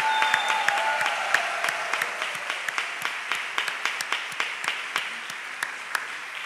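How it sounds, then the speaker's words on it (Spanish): Congregation at a Sunday Mass applauding, a dense steady wash of clapping with sharp individual claps standing out, loud and close, slowly easing toward the end. "Ese aplauso es para el Señor."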